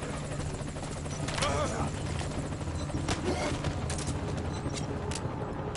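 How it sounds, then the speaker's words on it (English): Enemy helicopter in the video game Metal Gear Solid 5 Ground Zeroes, a steady rotor drone running through the whole stretch with scattered bursts of gunfire and a faint voice underneath. "Focus all your fire on that enemy chopper."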